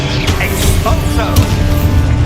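Loud spell explosions and combat effects from the Hogwarts Legacy video game burst out in quick, dense succession, with sharp impacts at several points.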